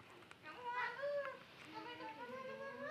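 Domestic cat meowing several times in a row, drawn-out rising and falling cries close by, with faint background noise throughout.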